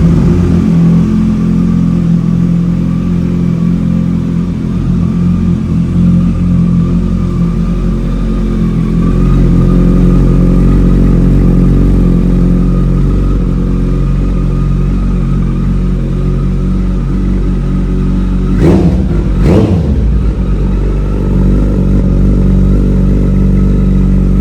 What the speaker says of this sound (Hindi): अभी मैं स्टार्ट कर रहा हूँ गाड़ी